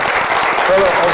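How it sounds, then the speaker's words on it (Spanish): A church congregation at a Spanish-language service claps in loud, sustained applause, with voices mixed in beneath the clapping. "Dale una ofrenda de palmas al Señor."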